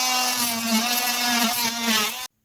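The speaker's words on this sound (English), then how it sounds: "I can go ahead and make those precision cuts without screwing anything up." A Craftsman 3-amp oscillating multi-tool making precision guide cuts, giving a steady, loud, high buzzing whine with a strong drone that runs for about two seconds before stopping abruptly.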